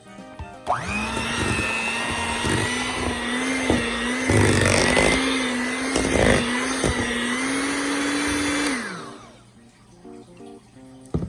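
An electric mixer whirs steadily for about eight seconds, blending mashed potatoes with cream for twice baked loaded potatoes, with a loud, even motor hum that winds down at the end.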